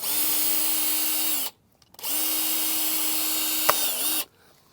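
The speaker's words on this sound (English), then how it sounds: "I like to drill a little hole" A power drill bores a small hole for threading a garden irrigation hose through, running in two steady bursts of about a second and a half and two seconds with a short pause between, close and loud, with no talk.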